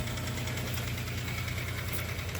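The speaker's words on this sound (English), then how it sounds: "What's that clacking? Is that the valves?" A 1992 Ford Taurus engine idles with a steady mechanical hum and a faint, rapid ticking clack of the valves layered over a low, even drone.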